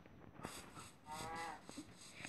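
A cow moos in the video game Minecraft, one drawn-out low call in the middle among soft scattered in-game clicks and thumps, fairly quiet overall.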